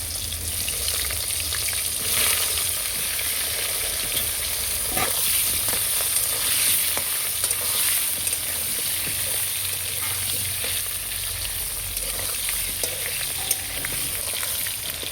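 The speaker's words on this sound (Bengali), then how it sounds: "কাঁচকলা আলু আমার হালকা ভাজা হয়ে গেছে" Raw green banana and potato pieces fry in hot oil tempered with green chilli and nigella seeds, giving a strong, continuous bubbling sizzle with occasional stirring scrapes throughout the whole stretch.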